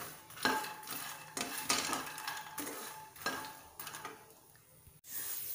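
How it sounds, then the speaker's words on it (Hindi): Makhana being stirred as it roasts in ghee in a kadhai, with a spoon scraping and clinking against the metal pan in a steady series of strokes over a faint sizzle, close and fairly quiet. "अब मैं इसमें अपने मखाने रोस्ट कर लूंगी"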